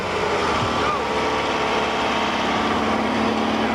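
A limited-engine 1-2-1600 class off-road racing buggy pulls into the pits during the 1992 HDRA American Racing 250 in Johnson Valley, California, its engine droning steadily and loudly throughout.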